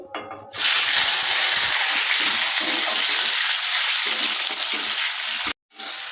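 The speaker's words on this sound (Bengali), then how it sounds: "টমেটোটা আমি একটু তেল দিয়ে হালকা ভেজে নিয়েছি" Steady, loud sizzling of chopped ripe tomatoes frying in hot oil with cumin and bay leaf, a dense hiss that runs throughout before cutting out briefly near the end.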